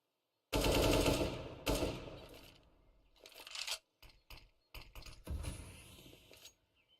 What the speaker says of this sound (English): Couple shots being fired back. The Deagles proving to be quite a nuisance here in this round.